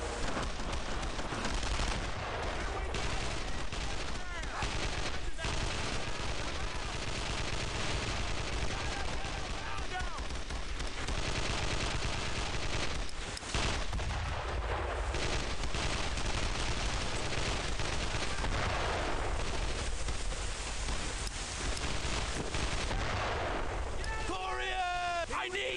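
Machine gun fire in a Brothers in Arms World War II battle, rapid bursts and scattered gunshots rattling continuously alongside explosions, with shouting voices over the din.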